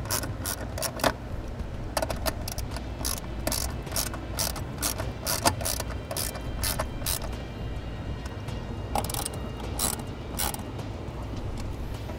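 Ratchet tightening four self-tapping screws on a 2009 Cadillac Escalade during a Tekonsha Voyager brake controller install: steady, close, rapid clicking runs on for about twelve seconds with brief pauses between strokes.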